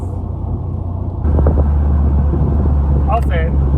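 A Dodge Viper's engine pulls from fourth gear, its low rumble jumping in loudness partway through and holding a deep, steady drone, with a brief higher tone near the end.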